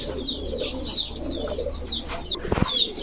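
A large female red-necked Huma pigeon coos softly and close by, with thin chirps from other birds over a low background murmur.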